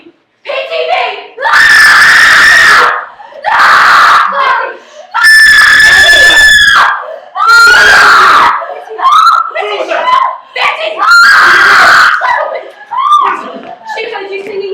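Girl screaming in a stage play scene, a series of loud shrill screams in bursts of one to two seconds, with shouting voices and crowd noise between them.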